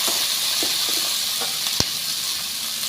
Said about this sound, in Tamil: வெங்காயம் கண்டிப்பாக நல்லா வதங்கணும்.